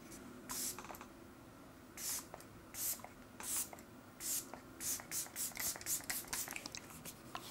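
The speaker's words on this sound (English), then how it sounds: "I have the setting spray. Let's just fucking throw that down." Several short hissing bursts of makeup setting spray, spaced irregularly, with a steady low hum underneath and no talking.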